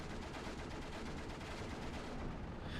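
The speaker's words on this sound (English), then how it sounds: "60 mil mortar, though, did spot that. That means it will start firing." A 60 mm mortar fires in the WWII strategy game Steel Division 2 amid a dense, continuous wash of gunfire and artillery rumble, loud and unbroken, with no talk.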